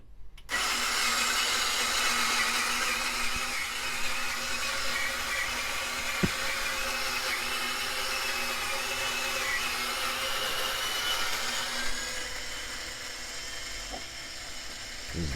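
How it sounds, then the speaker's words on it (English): A small conical burr coffee grinder runs through espresso beans, a steady whirring grind held loud and close for most of the clip before tapering off at the end. "Such a small, really neat grinder. It's conical."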